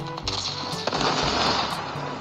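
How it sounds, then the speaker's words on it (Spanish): Explosions and gunfire in the Call of Duty Mobile shooter game: a loud booming blast amid a dense, continuous roar of shots and rumbling impacts, close and unbroken. "escuché una fuerte explosión"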